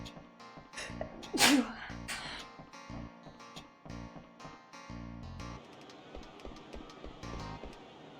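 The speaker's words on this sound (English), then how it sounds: "you never want to sneeze when you're like out in public" A single loud sneeze bursts out near the mic over a background of Final Fantasy IX game music, which keeps playing steadily before and after.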